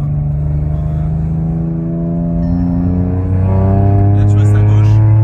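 A car engine revving while driving, a loud, close, continuous engine drone climbing steadily in pitch as it accelerates, with a voice talking over it.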